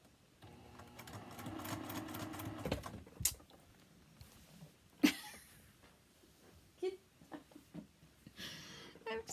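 A sewing machine stitches a quilt seam in short bursts of rapid needle chatter, fairly quiet and close, broken by pauses with light handling clicks and rustles.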